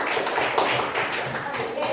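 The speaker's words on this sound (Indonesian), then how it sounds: "Tepuk tangan buat kelompok Ibu Sud" A classroom group claps for Ibu Sud's team, a dense, brief burst of applause with voices mixed in.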